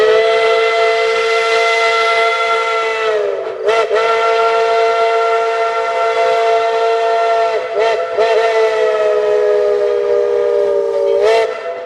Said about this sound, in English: Tweetsie Railroad number 12's Baldwin 3 chime.